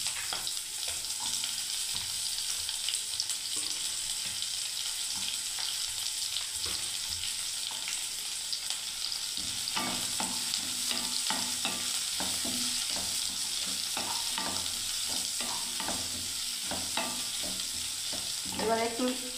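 Four chopped onions frying in a pan for semolina upma make a constant hiss, broken by scraping and clicking stirring strokes that grow busier in the second half.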